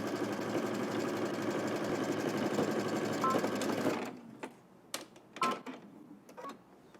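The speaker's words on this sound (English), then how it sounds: "We're going to stitch across both shoulders using 5/8 of an inch seam allowance." A home sewing machine stitches a cardigan's shoulder seam at a 5/8-inch allowance, running in a steady, fast, even whir for about four seconds before stopping, followed by a few light clicks and handling taps.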